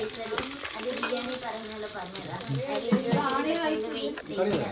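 Fenugreek, ginger, garlic and green chilli paste frying in a pan for a Lakshadweep-style biryani, a close sizzle and stir heard under people chatting throughout.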